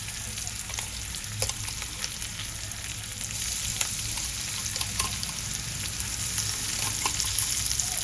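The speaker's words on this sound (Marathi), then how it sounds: "कांदा लालसर झाला ना, आता आपण यावर हा तयार केलेला ठेचा घालूया." Thecha, a crushed green chilli paste, added to onions frying with mustard seeds in a pan, a steady close sizzle with light stirring scrapes and occasional pops, with no talk.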